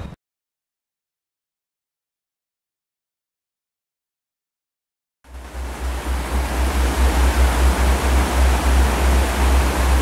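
After several seconds of silence, a steady rushing wash of river water rises in and continues loudly, broad and constant, on the Falls River.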